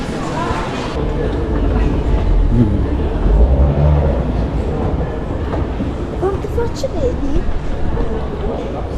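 A Paris metro train rumbles along steadily, with low continuous roar and faint clatter, while people talk in the background throughout.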